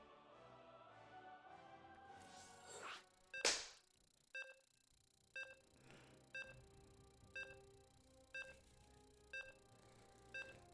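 Countdown timer beeps in a StarCraft 2 game lobby: evenly spaced short electronic beeps about once per second, following a sharp louder burst, with a faint background underneath.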